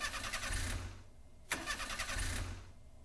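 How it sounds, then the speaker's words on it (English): A video game car engine cranks twice, each attempt a rough sputtering churn that dies out without catching, separated by a brief click. "I'll test the engine."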